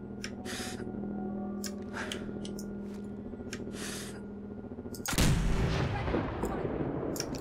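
A gun fired in Fallout 4. A steady game hum with faint clicks and rustles builds to one loud, booming shot that tails off into a long rumbling decay.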